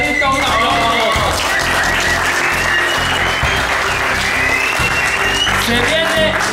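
A lively crowd gives loud, sustained applause for three finalists at an outdoor subscriber challenge game, with excited voices and shouting mixed in throughout.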